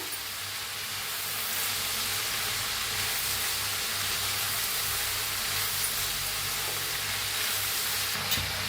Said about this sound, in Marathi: टमाटो कापलेले आहेत बघा अशी मोठी मोठी ते टाकून घेते पुन्हा भाजीला मिक्स करूया